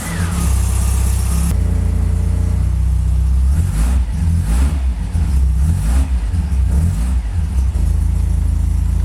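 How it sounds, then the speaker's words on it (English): A 37-year-old classic barn find car starts and runs, its engine loud and close with a rumbling idle and a couple of revs rising and falling across the clip, with no voices. "a car that starts on the button at 37 years old"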